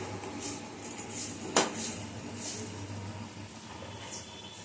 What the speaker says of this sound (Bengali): এই যে আমি এবারে একটু জল দিলাম, জল দিয়ে এটাকে আমি নাড়াচাড়া করবো